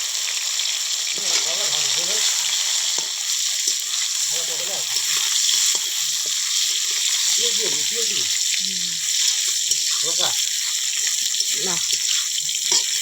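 Fish pieces dropped into hot oil in a village kitchen fry with a continuous loud sizzle and crackle, heard close, while a voice speaks briefly over it.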